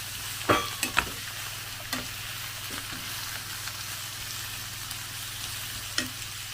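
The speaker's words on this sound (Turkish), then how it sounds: "kabakları böyle çok az zeytinyağında kavuracağım" Zucchini sautés in a small amount of olive oil in a pan, giving a soft continuous sizzle broken by a few sharp scraping stirs and clinks near the start and again later, with no voices.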